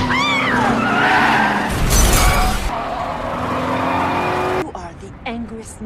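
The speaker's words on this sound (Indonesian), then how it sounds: "menabrakkan pengemudi tersebut ke sebuah mobil" A car crashing into a parked car during a chase, tires squealing and engine roaring before a loud impact with shattering glass near the middle, followed by lingering noise and a sudden cut.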